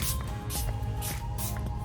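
A few short hissing sprays of fine makeup setting spray mist, close and evenly spaced, each a soft breathy burst.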